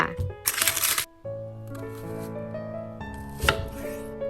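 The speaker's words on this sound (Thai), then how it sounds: "ผ่ากลางก่อนนะคะแล้วก็หั่นบางๆค่ะ" A knife chops an onion on a cutting board in a few quick bursts, slicing it thinly, with music playing throughout in the background.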